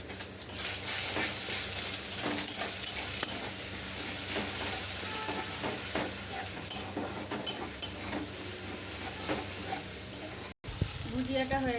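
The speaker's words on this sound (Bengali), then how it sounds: "এখানে আমি দুটো ডিম ফাটিয়ে ভুজিয়া বানিয়ে নিচ্ছি।" Two eggs stirred and fried in oil in a wok for a chowmein dish, with steady sizzling and frequent scraping and clinking of a utensil against the pan, close and continuous until a brief break near the end.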